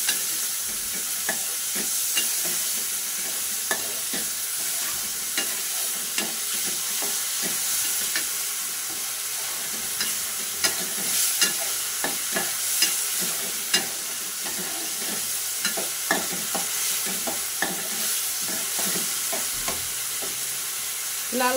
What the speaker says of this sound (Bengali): পরিমাণ মতো তেল দিয়ে সুন্দর করে একটু লাল লাল করে ভেজে দিব।